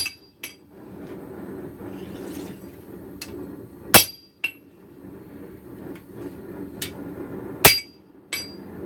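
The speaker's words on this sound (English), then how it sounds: "Just light blows now. We're only doing little straightening jobs now." Light hammer blows tap on metal during small straightening jobs, a few sharp ringing strikes spaced seconds apart over a low background hum, close and crisp, with no talk.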